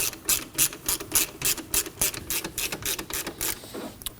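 A ratchet tensioning the engine drive belt on a 2003-2006 Subaru Baja, a rapid run of crisp, close clicks in a steady rhythm, about a dozen strokes.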